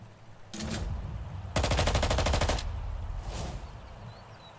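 Gunfire in a turn-based video game, a burst of rapid automatic shots followed by a longer dense volley, then a single softer shot, all without talk.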